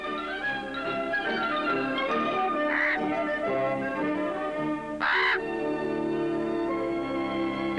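A wild raven in Alaska calls over a constant background hum, giving a harsh croak near three seconds and a louder, sharper call near five seconds, both fairly close.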